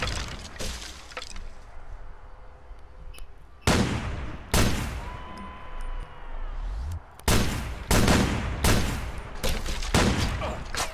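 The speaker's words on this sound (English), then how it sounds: "He's shooting at me, bro." Enemy gunfire in a first-person shooter game, several sharp loud bursts of shots in quick clusters separated by quieter stretches, close and alone without talk.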